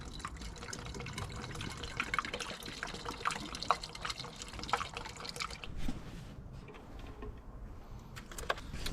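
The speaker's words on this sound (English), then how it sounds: "I'm going to fill this back up" Coolant is poured into the bone-dry cooling system of a 2008 BMW X3, a quiet trickling and dripping of liquid with faint handling clinks, fairly soft throughout.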